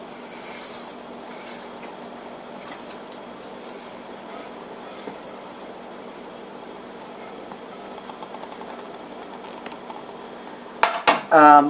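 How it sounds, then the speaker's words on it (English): Rice goes into the mixture for albondigas stew with clinks and clatters of a utensil against cookware, a few distinct bursts early on and a louder clatter at the end, over a steady low kitchen hum. "And we're going to add our rice."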